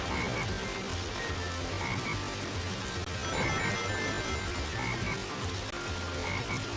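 In the Sonic Heroes rainforest stage, a black frog's croaking repeats in steady low pulses over a dense, constant wash of jungle ambience and game noise.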